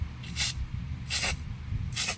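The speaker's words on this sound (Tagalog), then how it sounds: "So, pag in-spray mo siya, like nito, i-spray ko siya dito sa sahig." A fake Wawang spray bottle is sprayed onto a floor in three short, evenly spaced hissing bursts, close and clear with no talk.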